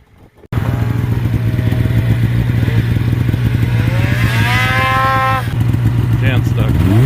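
A Ski-doo 850 Turbo snowmobile engine starts up and holds a loud, close, steady drone that rises in pitch as it revs, with a voice briefly audible over it.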